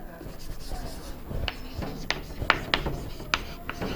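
Pen writing HTML form code by hand on paper, quick faint scratching strokes and taps, growing more distinct, with soft speech in the background.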